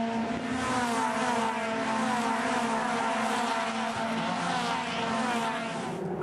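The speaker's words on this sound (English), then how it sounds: "Great sound, that little 2-litre four-cylinder engine screaming away" A Toyota 86 race car with a 2-litre four-cylinder engine screams at high revs during a circuit race at Winton, a sustained, loud, smooth engine note with only slight shifts in pitch.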